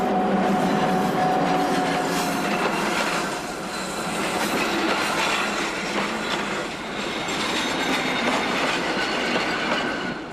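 The British Pullman carriages of the Venice-Simplon Orient-Express, built in the 1920s, run along the rails with a continuous loud rolling roar, rhythmic clickety-clack of the wheels and faint wheel squeal throughout.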